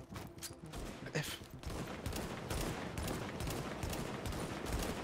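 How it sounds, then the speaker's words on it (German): Gunfire in the video game The Division, played on PC in hard mode: a sustained barrage of rapid shots, dense and fairly loud, with a few sharper bursts standing out near the start. "Ein Schuss noch."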